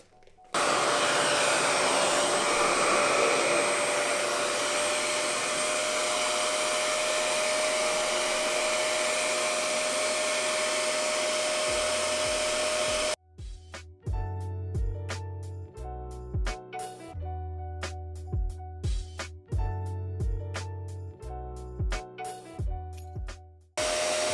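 RevAir hair dryer running on type 4 natural hair, a loud steady suction-blower roar for about thirteen seconds, then cutting to a choppier stretch of rising and dropping motor whine and pulsing airflow as the nozzle moves around the roots.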